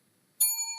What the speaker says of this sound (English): And if you can have the bell,